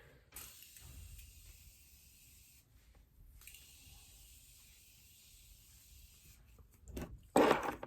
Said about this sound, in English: I'm gonna spray this and let it melt